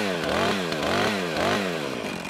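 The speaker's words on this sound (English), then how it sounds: "I use some momentum and pull the cord." Chainsaw sharpened for ripping fires up after a cord pull, its two-stroke engine revving in four quick, loud, close bursts with each rising whine falling away before the next.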